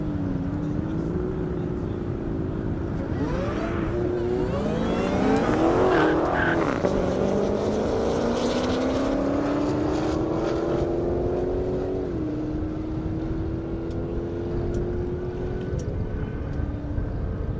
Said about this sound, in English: Ashley Carmody in the McLaren 720S.